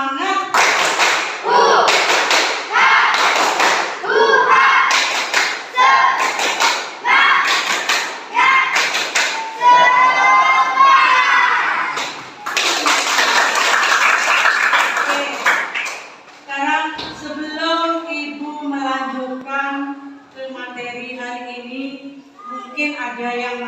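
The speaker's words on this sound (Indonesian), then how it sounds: "Tepuk semangat." Pupils in an Indonesian classroom perform a rhythmic clapping chant: bursts of sharp patterned claps and taps alternate with shouted group chanting, then a sung section of voices carries on with fewer claps toward the end.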